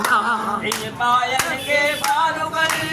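Sharp hand claps land at an even, unhurried beat of about one every two-thirds of a second beneath a melodic voice singing a devotional chant to Shri Ram.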